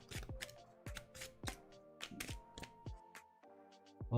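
A deck of cards for the card game Veilwraith being shuffled by hand, close and quiet, with a series of quick riffling bursts and soft taps at an uneven rhythm.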